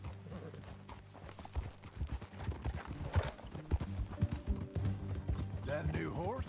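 Horse hooves clip-clop steadily in Red Dead Redemption 2, mixed with creaking tack, faint mechanical clicks and a short whinny near the end, over ambient game sound.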